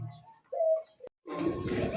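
Pigeons for sale, including Lahori, Bombay, satin, racer and pouter types, giving soft cooing calls close up, with a click and a rougher, fuller burst of bird sound after a short pause.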